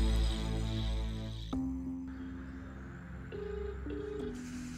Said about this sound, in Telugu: నేను వేరే దానికి కాల్ చేస్తున్నాను. సో వీళ్ళకి కాల్ చేసేస్తున్నాను.